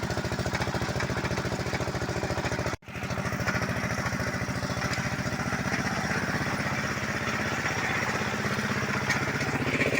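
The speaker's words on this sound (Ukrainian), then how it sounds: "Косарка йде дуже низько." A tractor mower cutting hay low over boggy ground drones loudly and steadily, broken by one brief dropout before the roar resumes.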